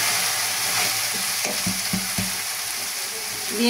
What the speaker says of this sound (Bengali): দিয়ে হালকা একটু নাড়াচাড়া করে নেবেন। এইরকম ভাবে নাড়াচাড়া করে নেবে।